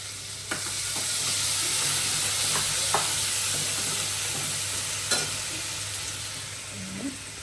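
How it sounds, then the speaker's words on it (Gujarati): Cumin seeds sizzle in hot oil at the start of sabudana khichdi, a steady, even hiss close by, with a few faint clicks of stirring scattered through and no voices. "પહેલા તો છે ને આપણે જીરું તેલમાં નાખી દઈશું."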